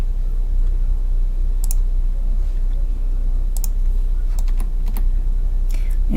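Computer keyboard typing while drawing in CAD software, a pipe clamp drawing: scattered sharp key clicks and Enter presses come in small clusters over a steady low hum.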